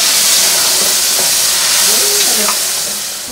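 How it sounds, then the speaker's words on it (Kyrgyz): Sumolok, a sprouted wheat pudding, is stirred in a large cauldron, giving a steady bubbling sizzle and hiss with faint scraping and clinks throughout. "Ошентип казанга салынган азыктар бир күн, бир түн бою тынбай аралаштырылат."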